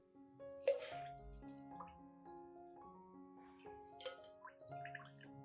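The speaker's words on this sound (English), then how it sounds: "Next, I filter out all the residue, keeping only the clear liquid that has extracted nutrients." Clear liquid that has extracted nutrients drips through a filter, separating out residue, with the cinnamon water mixed in; small close drops fall irregularly in a quiet setting, with a few brief louder splashes.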